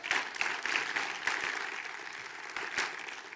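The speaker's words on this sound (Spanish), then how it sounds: "Den un aplauso al Señor." A church congregation applauding during a sermon, a short burst of moderate, uneven clapping from a crowd that swells slightly and then thins out.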